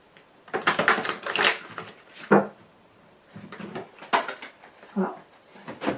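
Lenormand cards are shuffled and dropped, a run of dry papery riffles and sharp slaps and clatters in irregular bursts, close and moderately loud, with a voice speaking between them.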